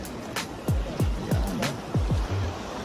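A strong water current rushes steadily at an outdoor spot in Tanay, Rizal, with repeated low thumping surges over the continuous wash, and a brief voice speaks over it.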